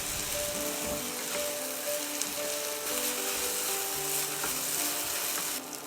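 King oyster mushrooms with red and green chili rings stir-fry in a hot pan, giving a steady close sizzle and crackle throughout, with no talking.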